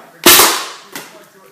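A homemade PVC potato gun fires with one loud sharp bang that trails off, then a fainter second pop follows about a second later.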